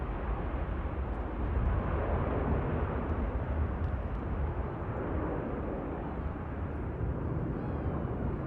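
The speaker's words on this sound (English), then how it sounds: "I would expect a fairly long rollout from this aircraft" A heavily loaded aircraft carrying a full fuel load takes off at Manchester Airport, producing a steady, loud, broad jet roar that holds without a break throughout.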